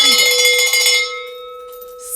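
A handbell is rung loudly up close for a coupon deal, a rapid clanging burst that stops and leaves one clear tone ringing on and fading.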